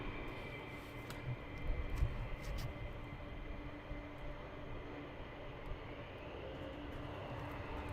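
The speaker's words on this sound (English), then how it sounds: "I do believe the F15s are taxiing out for departure." F-15 fighter jets taxi out for departure at RAF Lakenheath, heard as a faint, distant and steady engine drone with a thin whine, unbroken for the whole stretch and without voices.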